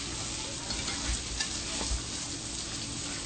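Cutlets fry in hot oil in a pan as they are lifted out, giving a steady, close sizzling hiss with a few soft thumps from handling, and no voices.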